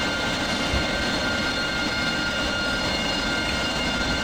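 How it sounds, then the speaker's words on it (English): A Harrier jet in a video game readies for takeoff from the deck of the carrier HMS Invincible with its ski ramp, a steady loud roar of jet engine running without a break, with no talk over it. "It looks like we're about to take off the deck of HMS Invincible"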